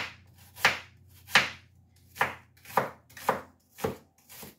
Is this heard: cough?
no